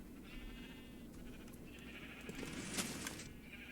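Sheep on a Minecraft wool farm bleat a few times, quiet, drawn-out calls over a low background hum, with one louder bleat near the end.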